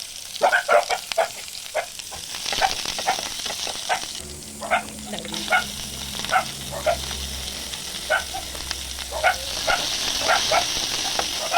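Cumin, garlic and ginger sizzle in hot oil in a pan, a steady crackling fry broken by repeated sharp scrapes and taps of stirring, close and fairly loud.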